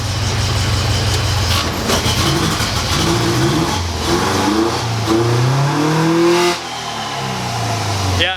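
Loud Porsche 914 engine revving as it drives, reluctant to rev under load, pitch climbing and falling through gears, with rattling and road noise close by.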